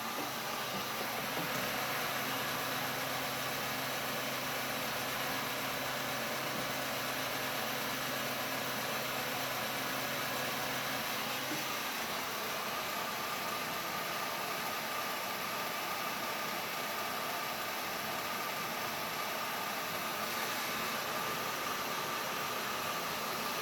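A Pulsar 4500 watt portable generator engine runs steadily as a broad, constant mechanical drone, with a lower rumble that drops away about halfway through while the hum carries on at the same level.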